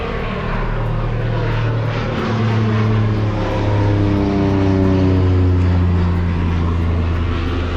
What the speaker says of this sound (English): A plane taking off right here. It's a water plane, or amphibious plane